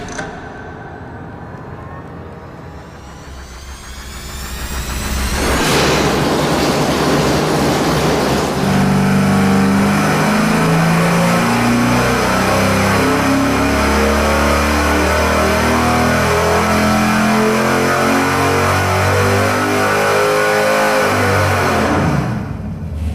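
A V8 engine on a dyno during a stock-versus-stroked horsepower test starts up and idles briefly, then revs up and holds a loud, sustained full-throttle roar for around fifteen seconds before it cuts off.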